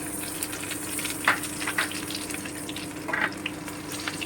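Bay leaf, dried chilli and whole garam masala of cloves, cinnamon and cardamom sizzle in hot oil, a steady close frying hiss broken by a few brief sharp crackles and pops.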